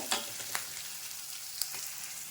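Ingredients for a drumstick leaf stir-fry sauté in a pan, a soft, faint sizzle close by, with a few light spatula scrapes and ticks and no talking.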